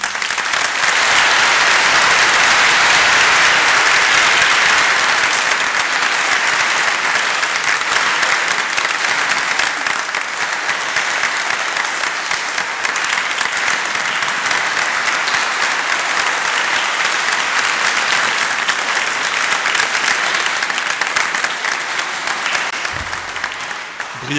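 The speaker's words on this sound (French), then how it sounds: "on peut l'applaudir" A church congregation applauds in a cathedral, a long, dense, steady wash of clapping that stays loud throughout and tapers slightly toward the end.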